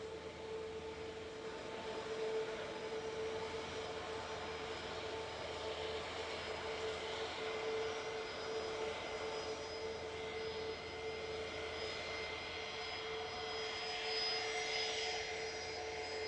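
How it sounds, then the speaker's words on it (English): Aircraft engine roar at Edinburgh Airport, a sustained loud drone with a tonal whine, heard from the showground side near the Ingliston car park, steady throughout with no speech. "What an aircraft."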